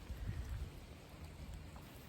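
Rain falls outdoors on a cold day beside the Salmon River in Maine, a soft, steady patter and hiss heard at low volume with a faint low rumble underneath and no voices.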